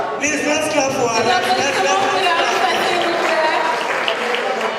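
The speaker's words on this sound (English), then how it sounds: "Please, let's clap for her." Audience clapping at a dinner party, a steady dense wash of applause that carries through the whole stretch, with voices mixed in the crowd.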